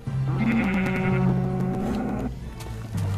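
Sheep in Minecraft give a long wavering bleat, loud and close, that holds for about two seconds before a shorter bleat follows.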